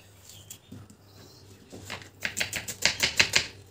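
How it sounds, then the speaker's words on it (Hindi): A knife finely chopping onions on a board, soft scattered taps at first building into a quicker, louder run of close, crisp chops. "अब प्याज को हम चॉप कर लेते हैं बारीक बारीक"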